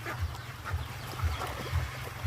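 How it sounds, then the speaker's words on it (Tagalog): Ducks kept on a backyard poultry farm quacking in short repeated bursts, roughly every half second, at moderate distance amid faint outdoor background. "May mga pato pa ko dito yan guys"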